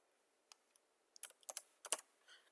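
Keys on a computer keyboard tapped in a short quiet burst, a few scattered clicks followed by a quicker cluster of presses, close and isolated in an otherwise silent room.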